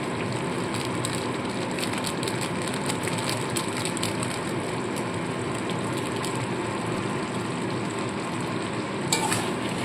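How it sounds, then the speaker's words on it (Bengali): Potato and pointed gourd curry gravy simmers in a pan, giving a continuous close bubbling and sizzling hiss at steady loudness, with occasional soft clinks near the end. "দেখুন ঝোলটা ফুটে উঠেছে একদম মাখা মাখা"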